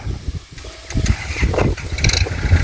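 A walk-behind tractor engine works a rice paddy in the afternoon, its low mechanical chug running steadily close by, mixed with field noise and brief clattering.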